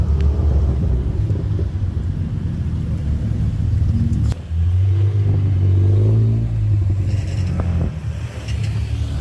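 Car engines rumble and rev outdoors, a loud continuous low drone with one engine swelling in pitch midway.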